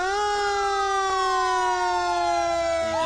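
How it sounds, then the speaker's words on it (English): Loud sustained siren played electronically, a steady rich harmonic tone with a slight downward drift and a quick upward warble near the end, filling the whole stretch with no talk. "I'm talking to this dude playing sirens."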